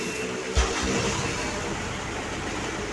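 A Ford Everest TDI diesel engine fitted with an HKS turbo timer is restarted, giving a brief low thump followed by a steady, moderately loud idle rumble that continues to the end.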